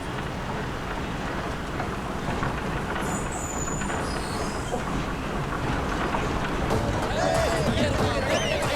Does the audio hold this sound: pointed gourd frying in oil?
no